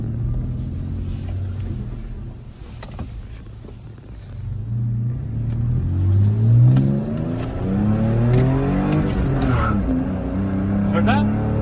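A 2022 Toyota Tacoma TRD Pro with a six-speed manual and an aftermarket muffler revs hard through the gears in rear-wheel drive, its engine note climbing loud and close while a brief tire chirp and a voice sit in the mix.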